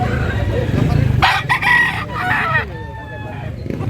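A rooster crows loudly nearby at a public market, a long rising-and-falling call, with chicken clucks and a voice murmuring in the background.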